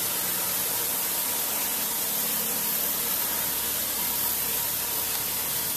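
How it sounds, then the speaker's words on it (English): A steady, loud hiss of spray equipment applying Rhino Lining bed liner coating to an International MXT truck runs continuously and evenly from start to finish, with no voices. "So we are ready to spray this thing."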